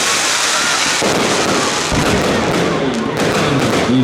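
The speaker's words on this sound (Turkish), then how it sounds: "Konser öncesinde havai fişek gösterisi yapıldı." Constant crackling and booming of a fireworks display before an outdoor concert in Hatay, dense and continuous, with crowd noise mixed in throughout.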